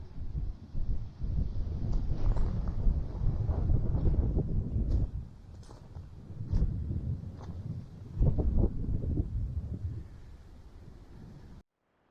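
Gusting wind buffets the microphone in uneven rumbling bursts on Cadair Idris, a Welsh mountain, rising and falling throughout.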